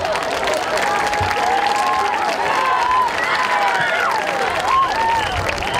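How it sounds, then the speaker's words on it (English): Crowd applause and cheering at a high school football homecoming event honoring the parade and float competition, a broad, continuous wash of clapping mixed with voices and whistles. "So give yourself a big round of applause."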